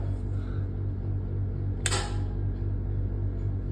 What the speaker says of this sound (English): bang, goes the RCD